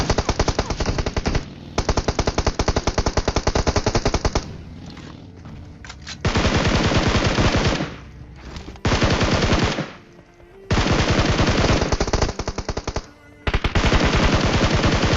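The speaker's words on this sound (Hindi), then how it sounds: "यहाँ पे भी एक बॉट था जिसपे दूसरी टीम फायर कर रही थी।" Automatic gunfire in an online shooter video game as another team fires on a bot, loud rapid bursts repeating in long strings with short pauses and quieter gaps between, no talking.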